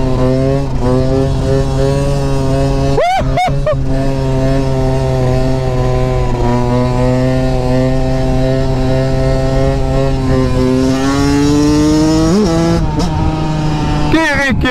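A Yamaha YZ 125 motorcycle fitted with an Athena 144 kit runs loud and close, holding a steady buzzing engine note with a few quick rises in revs.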